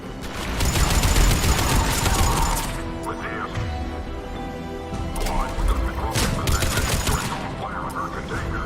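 Rapid bursts of automatic gunfire in the video game Mass Effect 3 during a firefight at a checkpoint, loud and close, easing midway and then resuming in sharp volleys, with a voice briefly heard.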